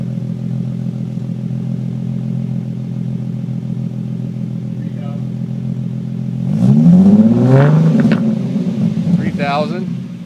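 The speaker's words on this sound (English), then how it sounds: "I'm going to do a 3000 and then a 4000 rev. Just take it up and then drop it down." A 2013 Roush RS Mustang with a Pype Bomb exhaust idles steadily with a low, even burble, then blips once up to about 3000 rpm with a loud rising roar before dropping back, close to the car.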